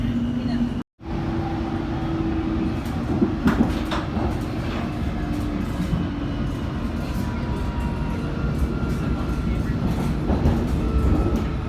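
Steady rumbling of a London Underground Metropolitan line train in motion, heard onboard, with continuous low-frequency roar and occasional rattles and clatter throughout.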